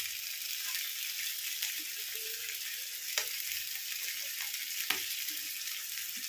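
Fish fries on a tawa, spitting and crackling in oil with a steady close sizzle broken by sharp pops every second or so, alone with no talk.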